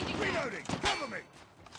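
A quick weapon magazine change and reload in Call of Duty: metallic clicks and mechanical rattles layered with game effects, brief and close.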